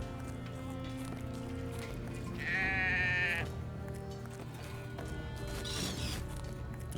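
A sheep bleats once in the video game Drova, a clear, wavering call of about a second set against a steady low ambient bed of game sound.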